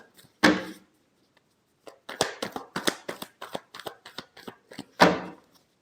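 Tarot cards being shuffled by hand, with a sharp burst, then a quick run of crisp riffling flutters, and a final firm snap of the deck, close and fairly quiet.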